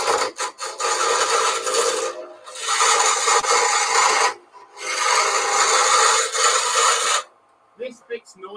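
A pen blank spins on a wood lathe while a tool cuts it, giving loud, rasping bursts of a few seconds each with short gaps between them and brief faint sounds at the end.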